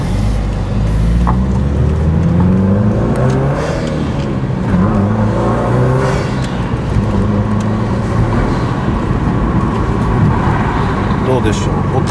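Subaru Impreza fitted with a BLITZ SUS Power mushroom air cleaner, loud intake roar and whoosh rising and falling as the engine revs under boost, heard from inside the moving car with road noise throughout.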